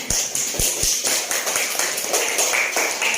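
Students in an Islamic religious education class in Banda Aceh clap their hands close by, giving a quick string of crisp, rhythmic claps that carries on steadily.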